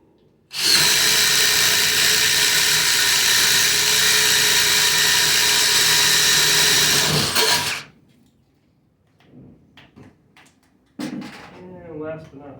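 A Ridgid brushless impact driver spins a 7/8 inch Spyder Stinger spade bit through wood with a loud, steady high-pitched whine for about seven seconds, then stops, followed by faint handling noises and a brief clatter.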